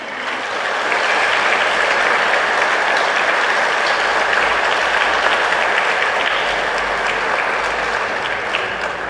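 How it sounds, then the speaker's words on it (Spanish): Steady, loud applause from a congregation at a Sunday Eucharist church service fills the room evenly, a dense wash of clapping with no pauses. "Un aplauso para ellos."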